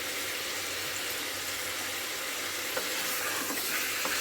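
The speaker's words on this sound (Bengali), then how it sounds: "লবণ দিয়ে আমি ভালো করে মাংসটা কষাবো" Meat sizzles loudly and steadily in hot oil in a pan as it is sautéed with salt, a dense close hiss with a few faint stirring ticks and no talking.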